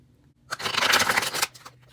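A deck of tarot cards is shuffled in one quick, crisp burst of papery riffling lasting about a second, close and fairly loud, with quiet before and after.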